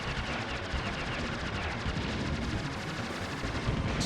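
Rapid arcade gunfire from a fighter plane in the 1996 shoot-'em-up Aero Fighters, a dense continuous stream of shots layered with explosions and game music, steady and loud throughout.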